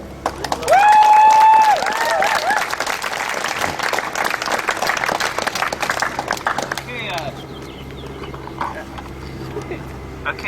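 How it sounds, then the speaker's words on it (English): Audience applause for a speaker at a student divestment campaign meeting: dense, sustained clapping with an early whistle-like whoop, holding steady before tapering off near the end. "let's hear a big round of applause for Jessica"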